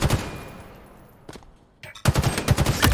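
Rapid bursts from an electric rifle ring out in a Halo-style multiplayer match. The shots come close and loud in a tight stuttering stream, fade briefly after the first second, then return in dense repeated cracks.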